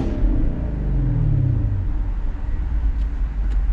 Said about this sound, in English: let me give you guys a little rev here